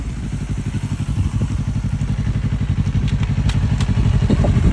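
A motorcycle ridden by a learner rider: a steady, loud engine putter with rhythmic low pulses that builds slightly in volume, with faint clatter, heard close and alone.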